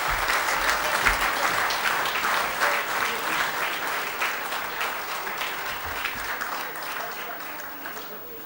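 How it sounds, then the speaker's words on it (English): Sustained audience applause fills a large hall at a biennial customs brokers' convention valedictory session, steady dense clapping throughout at an even, loud level. "Ladies and gentlemen, a huge round of applause, please."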